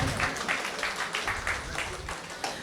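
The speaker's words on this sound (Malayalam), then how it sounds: "അപ്പം ഹൃദയക്ക് ഒരു നല്ല കയ്യടി ആവാം." An audience claps for a young dance performer at a stage festival event, a steady rhythmic applause at moderate volume with many hands, under a faint murmur.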